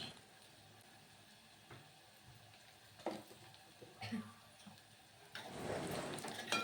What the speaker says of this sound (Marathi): तिखट छान तेलामध्ये परतून घ्यायचं एक मिनिटभर